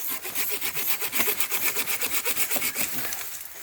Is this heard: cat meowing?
no